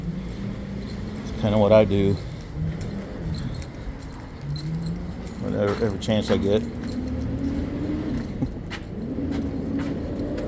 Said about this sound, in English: Sorry about the noise. The trash collector's coming through.